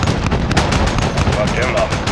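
Aircraft guns strafe in Call of Duty Modern Warfare: dense, rapid cannon bursts pound continuously and loudly, one shot blurring into the next with booming impacts.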